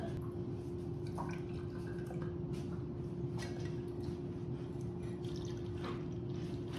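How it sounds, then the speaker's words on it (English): Blueberry syrup drips and trickles through a strainer as it is strained, a faint, scattered patter over a steady low hum and background hiss. "now we're gonna strain the blueberry syrup"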